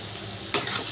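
Eggplant strips, potato and tomato pieces hit a hot pan of oil in a home kitchen, giving a sudden loud sizzle that keeps crackling steadily while the vegetables are stirred.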